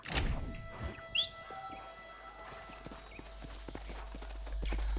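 Horse hooves clip-clop in the Red Dead Redemption video game: a few quick, distinct hoofbeats, then lighter scattered steps over a faint background.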